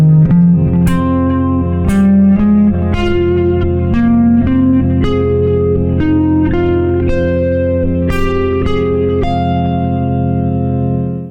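Electric guitar solo over a held drone chord, leaping widely across the strings in one position, with distorted, reverb-washed tone; sustained single notes picked one after another in a steady line, loud and close, no voices.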